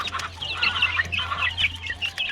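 A game fowl rooster on a Hawaii farm clucks in quick, close, choppy bursts over a low steady background hum.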